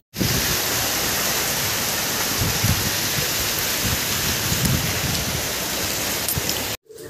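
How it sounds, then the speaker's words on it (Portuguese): Heavy rain pours down in a steady, dense hiss that fills the whole scene, loud and continuous without pause, ending abruptly near the close. "tá chovendo pra caramba."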